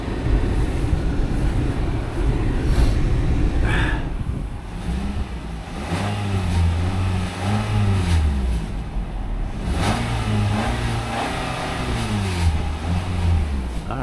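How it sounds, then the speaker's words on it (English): A 2015 Chrysler Town & Country minivan with all-wheel drive runs at idle, giving a steady, close engine hum with a wavering whine that rises and falls over the running note. "Alright, motor sounds okay."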